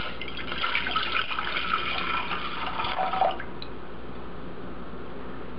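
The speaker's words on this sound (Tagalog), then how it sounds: "Then, lalagyan natin ng vinegar." Vinegar poured into a pot for atchara, a steady close trickling splash of liquid for about three seconds that cuts off, leaving quiet background.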